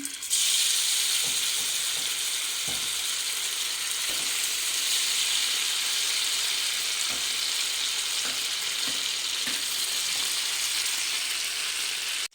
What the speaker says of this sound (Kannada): ಶಾಲು ಫ್ರೈ ಮಾಡೋಣ. ಮೀನು ಹಾಕೋಣ.